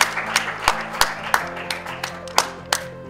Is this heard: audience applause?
yes